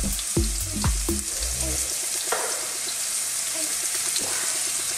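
Onions added to a pan with a touch of corn oil give off a steady sizzle, with a few sharp clatters and stirring knocks near the start, then continuous frying hiss.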